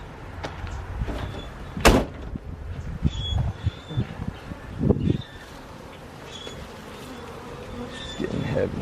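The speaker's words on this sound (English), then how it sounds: "Alright, we're gonna see if these bees are gonna follow us." Bees from a backyard swarm buzz in thin, wavering tones near and far, broken by a few loud knocks and rustles, with quiet stretches between.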